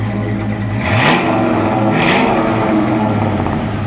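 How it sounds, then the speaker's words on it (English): A 1957 Chevrolet 210 pro touring car's engine revved up, a loud close rumbling idle swelling into two quick throttle blips with a rising roar, then settling back, no talking over it. "We'll give that a little rev."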